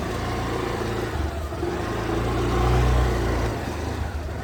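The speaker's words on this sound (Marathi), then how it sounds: "हे आपली रिक्षा." An auto rickshaw engine hums steadily and swells briefly in a short rev before settling back to a running drone, fairly close with no talk.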